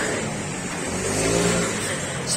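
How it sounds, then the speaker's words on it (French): A scooter engine revving as it rides off from a street, a steady mid-pitched motor drone that swells briefly in the middle and fades somewhat, heard alone at moderate distance. "il s'en va lui avec son scooter dégueulasse là"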